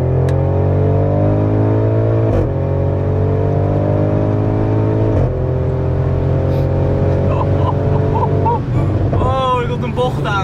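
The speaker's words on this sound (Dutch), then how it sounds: "Oké, okay, ik ga 100 rijden." A car accelerates hard on a German autobahn, its engine note climbing steadily through the gears with brief dips at each shift, loud and close from inside the cabin, while someone talks over it.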